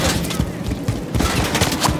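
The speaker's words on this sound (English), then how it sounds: "There's enemy fire!" Rapid bursts of automatic gunfire in a Call of Duty: Modern Warfare III campaign firefight, loud and close with overlapping shots, mixed with shouted voices.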